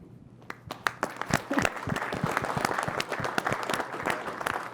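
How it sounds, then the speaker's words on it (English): A conference audience at a climate dialogue breaks into applause, starting with a few scattered claps and swelling into steady, dense clapping that carries on to the end. "I'm embracing the clapping as well."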